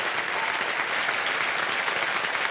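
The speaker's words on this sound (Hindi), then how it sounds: "तालियां बच्चों के लिए" A studio audience at the Kaun Banega Crorepati game show applauds the children, a brief burst of steady, close clapping with no talk over it.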